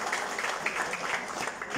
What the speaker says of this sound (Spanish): hoy yo les pido un fuerte aplauso para él